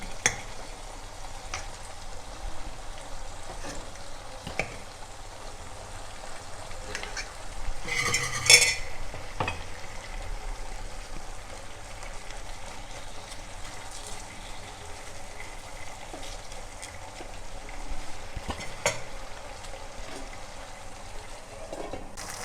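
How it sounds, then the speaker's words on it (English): Pork ribs being cooked in a pot, with a steady low bubbling and stirring texture and a brief louder clatter midway, no talking. "we'll add this pork in here and we'll boil it well"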